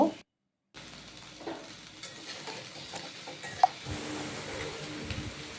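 Mixed vegetables for a Bengali panchmishali dish frying in a pan, with intermittent stirring scrapes and clinks over a low sizzle after a brief silence at the start, close and without talk.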